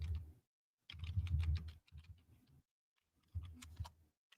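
A computer keyboard with an unreliable response is typed on in short quiet bursts of rapid clicking, separated by brief pauses.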